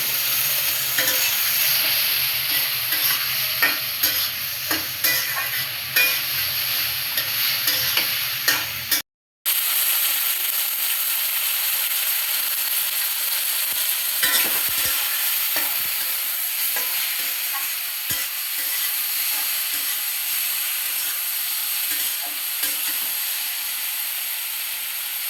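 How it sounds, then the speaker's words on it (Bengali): Eggplant with chili powder, coriander powder and a splash of water stir-fried in a pan, giving a steady close sizzle and hiss with repeated scraping stir strokes throughout, briefly cut off near the middle. "সাথে একটু জল দিয়ে ভালো করে কষিয়ে নিব।"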